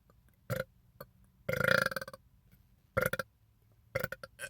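Burps after drinking soda, four separate belches spread across a few seconds with quiet gaps between them. The second is the longest and loudest, and the others are short and choppy, all close and alone with no talk.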